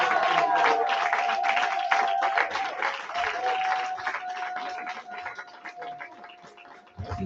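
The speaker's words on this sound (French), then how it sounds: "Ce sont les acclamations de fin de soirée." A congregation applauds loudly at the end of an evening church seminar in Orléans, rapid dense clapping that gradually thins and fades, with a sustained musical tone ringing underneath.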